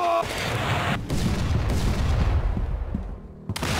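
Ship cannons fire in the pirate naval game Blackwake, producing deep booming blasts followed by long rumbling reverberation, with another sharp report near the end.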